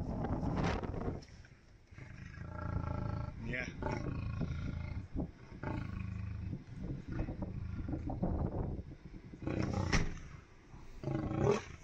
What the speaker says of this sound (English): This lion didn't like how close his safari jeep was.